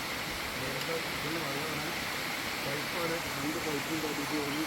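Water from a dammed forest stream runs steadily through a hose, a continuous close rushing hiss with faint voices underneath.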